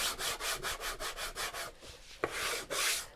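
Light hand sanding of a painted wood surface: rhythmic back-and-forth rasping strokes, about ten quick regular passes, then a short pause, a sharp tap, and a couple of longer strokes, close and clear.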